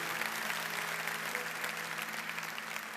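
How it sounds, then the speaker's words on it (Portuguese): A large audience at a church or motivational talk breaks into dense, steady applause that sustains at full strength throughout, filling the room without a break. "Forte aplauso para o Sandro, para a família Fidalgo."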